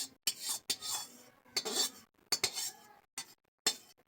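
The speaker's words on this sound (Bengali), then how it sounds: "এবারে আমি ঢেলে নেব একটা পাত্রে।" Roasted semolina scraped and poured from a pan into a bowl, with several short bursts of metallic scraping and clinking from a spoon against the pan, close and separated by brief pauses.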